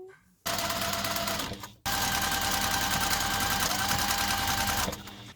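A sewing machine stitches a patchwork maxi skirt, a loud, fast mechanical whirr that starts, stops briefly, then runs steadily again before cutting off, close and without talk.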